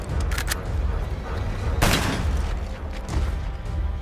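Gun Game mode in an Xbox shooter video game: dense gunfire crackles over a low rumble, with one sharp explosive burst in the middle and scattered shots around it.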